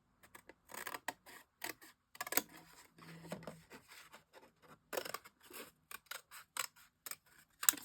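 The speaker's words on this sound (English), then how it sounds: "Let's just cut this corner off" Sharp, crisp snips of scissors cutting a corner off paper during a craft project, a quick irregular series of close, dry cuts with short pauses in between, no talking.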